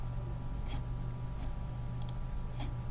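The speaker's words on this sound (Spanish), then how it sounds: "bueno, le damos a doble clic" A computer mouse clicks a few times at intervals over a steady low hum, with a quick double-click near the end. The clicks are faint and close.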